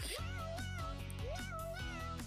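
Cartoonish cat meows from the Avatar World video game, several short rising and falling calls at a steady pace, set over continuous upbeat game music.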